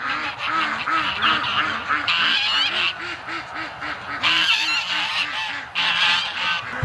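A flock of ducks and geese in a winter pen honk and quack nonstop, a dense, close chorus of repeated calls with no talk.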